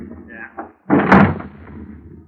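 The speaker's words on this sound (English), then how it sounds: "Shut the door, Angie." An apartment door shuts with a loud, close thump in a radio drama, following brief speech and ringing on into a fading tail.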